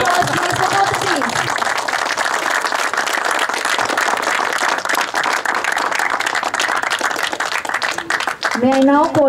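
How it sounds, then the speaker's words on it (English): Audience at a league semi-final ceremony applauding the support team, a sustained, dense round of clapping from a crowd that carries on steadily for several seconds before a voice comes in at the end. "a huge round of applause to the support team"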